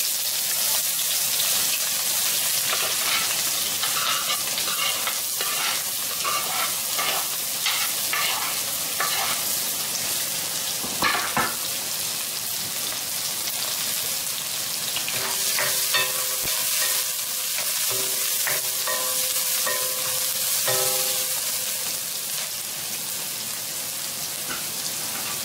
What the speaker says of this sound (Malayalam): ചൂടായ എണ്ണയിലിട്ട് ഞാൻ ചെറിയതായിട്ട് അരിഞ്ഞയച്ചൊക്കെ സവാള ഇടണം.